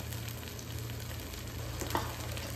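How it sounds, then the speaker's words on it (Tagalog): Sardines sizzle and fry in a cooking pan while being stirred and crushed with a utensil, a low steady crackle with faint scraping, close and quiet, with no talking. "So halo-haloin lang natin tapos medyo durogin natin yung sardines."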